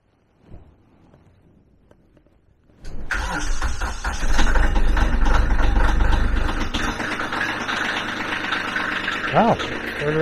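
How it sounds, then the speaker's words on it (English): A tractor engine cranks and catches about three seconds in, then settles into a loud, steady idle close by, with a brief rise in revs near the end. "to start the tractor here."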